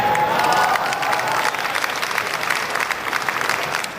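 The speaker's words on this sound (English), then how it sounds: "please give Jason and Kenney a well-deserved round of applause" Audience applause and cheering at a Toronto Chinese New Year celebration, a dense, steady roar of clapping with crowd shouts that stays loud throughout and eases slightly at the end.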